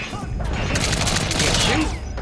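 Rapid, dense gunfire from Metal Gear Solid V: The Phantom Pain crackles as a loud, continuous burst of overlapping shots with distant booms, with a voice faintly in the mix.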